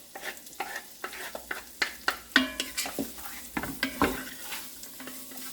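Onions frying in melted bacon grease in a pan, stirred with a steady run of close utensil scrapes and clinks over a soft sizzle, no talk.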